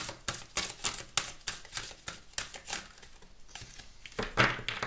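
Deck of oracle cards being cut and shuffled, with a quick run of close crisp card flicks and soft papery rustles as one card is drawn.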